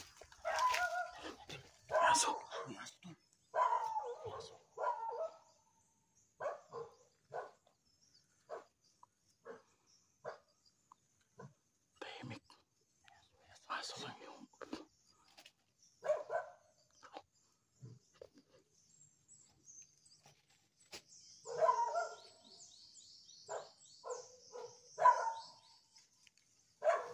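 A dog barks repeatedly near a house in the Philippine countryside, sharp bursts spread out over the clip, mixed in with someone talking close by.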